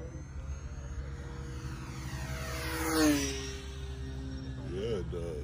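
An RC Mustang model airplane on a 4S battery drones steadily, its electric whine rising and swelling as it passes close around three seconds, then fading back with a brief second surge near the end.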